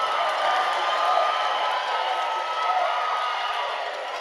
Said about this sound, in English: Farrell checking out, and that's what's the cheering.